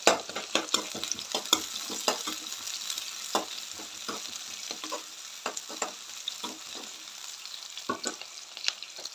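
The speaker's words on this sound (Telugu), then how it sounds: "ఆయిల్ బాగా వేగాక ఆనియన్స్ వేసుకోండి." Onions fry in hot oil in a pan with a steady crackling sizzle, broken by frequent close, sharp scrapes and clicks of stirring. No voices.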